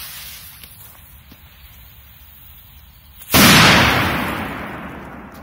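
A K1000 firecracker explodes in a single heavy, loud bang after a few seconds of quiet outdoor background, the boom then decaying in a long rumbling tail.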